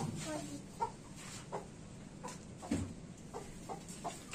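A broody hen clucks in short, scattered bursts against a rustling, noisy background, the clucks fairly soft and irregularly spaced.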